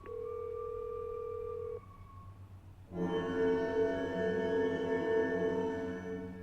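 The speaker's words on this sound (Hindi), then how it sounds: "भूत का फोन आ ही गया" A telephone sounds a steady electronic tone that stops, then after a short pause a loud ringing burst with rich harmonic tones rings on continuously, close and clear with no talk.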